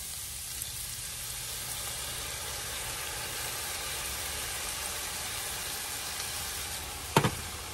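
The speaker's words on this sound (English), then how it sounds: "The beef in here is cooked through. I'm going to stir in our tomato sauce" Cooked ground beef for picadillo sizzles steadily in a pan as tomato sauce is stirred in, a constant low hiss with one brief clatter near the end.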